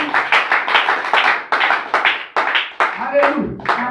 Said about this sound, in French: Est-ce qu'on peut acclamer pour eux?